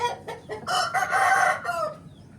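A rooster crows loudly and close, a drawn-out strained call that breaks into short clucks before cutting off.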